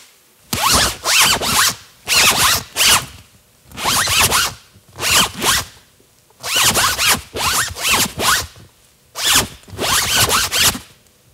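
A clothing zipper is pulled in repeated quick bursts, roughly a dozen raspy strokes grouped in twos and threes with short silent gaps between them, close and clear with no other sounds.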